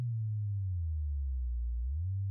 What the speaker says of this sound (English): So this is how a sine wave looks.